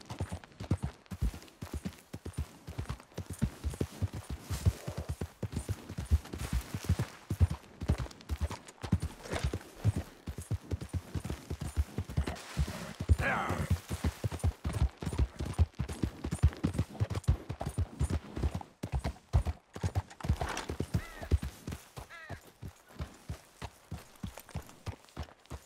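Horse hooves gallop in Red Dead Redemption 2 in a fast, continuous clip-clop that runs from start to finish, loud and close, with a few sharper bursts partway through.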